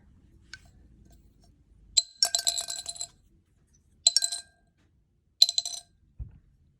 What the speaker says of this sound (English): listen to how many I drop in the jar